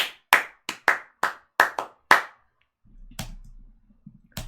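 A single person claps sharply and close up, seven quick, slightly uneven claps, then a pause with faint low background noise and two more isolated claps.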